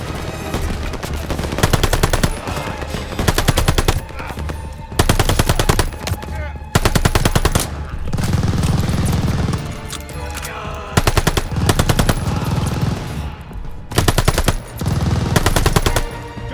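Bursts of machine gun fire from a half-track MG in the Call of Duty: Vanguard video game, loud repeated rapid volleys separated by brief pauses, with battle noise in between.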